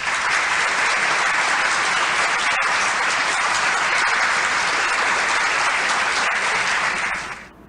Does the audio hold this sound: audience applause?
yes